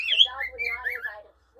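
A pet bird sings a short, close warbling phrase of bright whistled notes that lasts about a second before falling silent.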